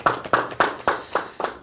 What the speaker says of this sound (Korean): 감사합니다. 박수하겠습니다.